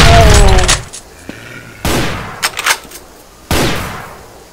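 Gunfire in the DOOM remake: several loud, heavy blasts spaced apart, each trailing into a decaying roar, with quieter thuds between them.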